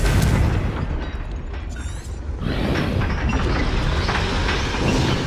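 In Hogwarts Legacy, a Confringo spell blows up into a heavy, booming blast with mechanical clanking and a sustained rumble, loud and close with no voices.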